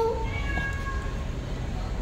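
A short cat meow at the very start, fairly close, followed by a steady background hum and faint tonal sounds.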